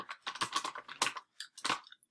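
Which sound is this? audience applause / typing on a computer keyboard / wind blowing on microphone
typing on a computer keyboard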